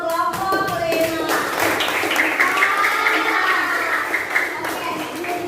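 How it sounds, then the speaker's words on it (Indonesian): A class of fourth-grade schoolchildren applauds a presenting group: close, lively hand clapping that starts in scattered claps and swells into a full round, with children's voices and cheering mixed in. "kita kasih tepuk tangan untuk kelompok 5"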